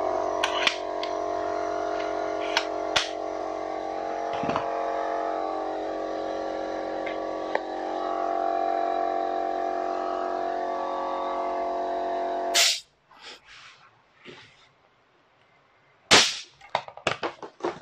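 A DCA pneumatic wood nail gun, taking nails up to 50 mm, fed from a small air tank: a steady compressor-like hum gives way to a few sharp, loud nail-firing cracks near the end.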